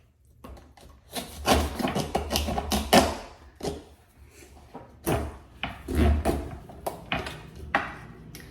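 Someone pries open a fresh coconut with repeated woody creaks, scrapes and knocks up close, straining in uneven bursts.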